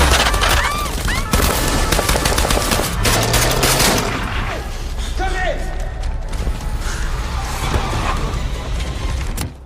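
A film shootout in which police come under fire: dense bursts of gunshots and rapid automatic fire over loud action noise, with a narrator's voice running on top.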